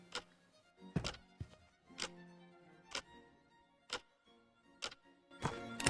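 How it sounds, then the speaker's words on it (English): A grandfather clock in a video game set at Lexington and Concord ticks steadily, each tick sharp and roughly a second apart, with a soft background tone underneath. "The grandfather actually ticks."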